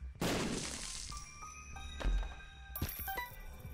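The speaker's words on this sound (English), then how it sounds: "Drop a bomb right there." A bomb in The Binding of Isaac: Rebirth goes off with a sharp shattering crash and thud, followed by a few ringing chimes and another lighter crash, close and moderately loud, with no talk.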